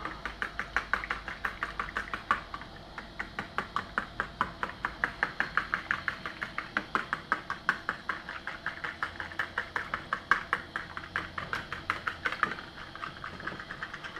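Eggs and a dash of milk are whisked in a bowl, giving a fast, regular rhythm of close clicking strokes that continues steadily, with a low hum in the background.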